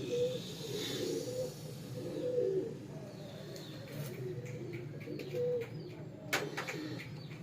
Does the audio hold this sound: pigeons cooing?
yes